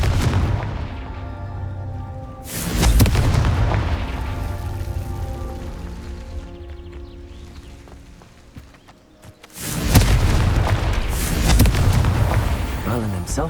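Confringo blasting spell explosions in the Hogwarts Legacy video game, two loud booming bursts a few seconds apart with a rumbling tail between them, set against game music and ambience.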